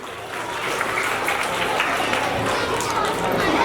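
Dense, steady applause from a school crowd at an Independence Day celebration after a student performance, filling the clip with a loud continuous wash of clapping and no voices on top.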